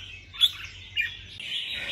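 A red-whiskered bulbul (chào mào) sings bright, clear whistled phrases, two short sharp notes followed by a longer warbling run, close and alone over a faint low hum.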